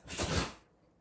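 One brief, breathy sneeze burst close by, loud at first and quickly trailing off into quiet.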